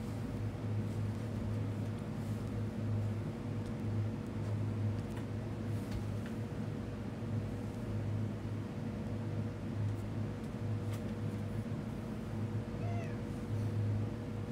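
Soft, scattered meows from a pet cat rise now and then above a constant low mechanical hum, with a clearer cry near the end.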